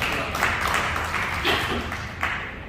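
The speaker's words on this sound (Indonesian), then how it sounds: "Mari beri tepuk tangan dulu yang lain." Church congregation clapping during a Sunday worship service, a steady crowd applause wash lasting a few seconds, fairly loud with broadband patter throughout.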